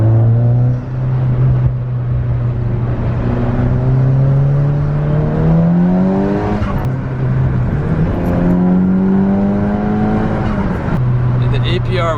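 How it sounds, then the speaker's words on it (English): A passing Honda revs loudly as it drives under a small bridge, its engine note rising and falling in repeated sweeps, with sharp backfire pops breaking through near the middle. "Here's a Honda going under a little bridge. It's backfiring nice though."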